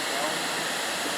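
A waterfall encountered along Woodstock Tower Road roars as a steady, full-band rush of falling water, close and constant for the whole moment.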